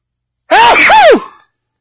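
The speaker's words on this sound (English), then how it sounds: "I hate trying to do something and I have to right in the middle of it sneeze" A single loud, close sneeze, a sharp voiced burst falling away over about a second, heard alone during a string mower repair.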